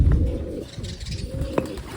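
Pigeons coo softly nearby, low rounded calls repeating over a brief stretch with faint rustling in the background.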